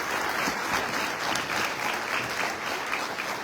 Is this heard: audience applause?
yes